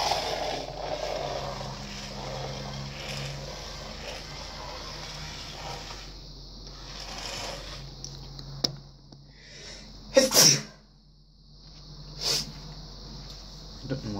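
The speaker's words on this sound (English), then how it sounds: "Why do I need to sneeze while I'm filming?" A person sneezes once, sharply and close, over a steady background hum while filming a small light-following robot indoors. A softer noise follows a couple of seconds later.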